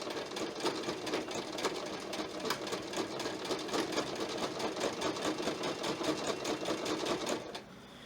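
A sewing machine stitches binding onto a quilt, running steadily with a fast, even mechanical chatter for several seconds before stopping near the end. It is close and fairly quiet, with no talking.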